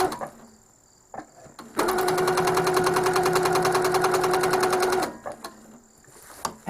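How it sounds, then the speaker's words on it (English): A Handi Quilter longarm quilting machine stitches in one loud, steady burst of rapid needle strokes lasting about three seconds, preceded and followed by quiet handling sounds. "So I'm going to turn the corner and stitch again."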